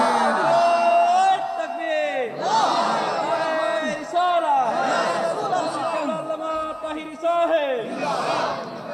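A large crowd at a religious sermon shouts the takbir, Allahu Akbar, in loud repeated calls that rise and fall in waves, close and filling the space, with a lead voice calling out between the responses.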